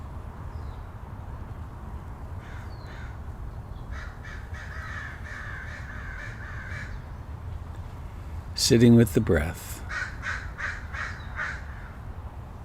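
Crows cawing outdoors, a series of distant caws early on, then a louder, closer burst of harsh calls followed by more caws, under a calm spoken voice.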